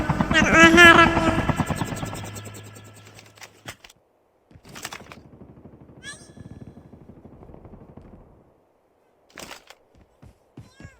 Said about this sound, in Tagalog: Ay, yung helicopter! Papunta dito! Papunta dito!